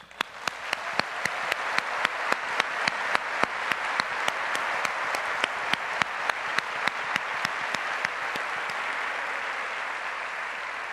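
Steady, enthusiastic applause from a large conference audience, with sharp individual claps standing out near the front, continuing without pause.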